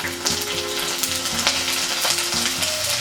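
Garlic paste and ginger paste sizzle steadily in oil in a frying pan while cooking a ridge gourd curry, a loud continuous hiss with occasional stirring scrapes and clicks.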